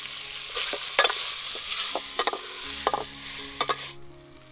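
Tomatoes being stirred into frying chicken masala in a pan, outdoors at a forest cookout, with a steady sizzle broken by repeated sharp spoon scrapes and clanks, close by.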